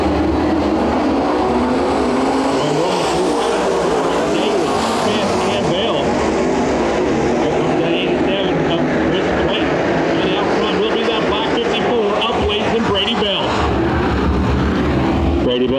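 Race cars roar around Bakersfield Speedway in a heat race, engines held at high revs in a loud continuous drone that swells and recedes as they pass, with an announcer talking over it.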